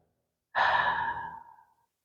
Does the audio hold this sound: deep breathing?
yes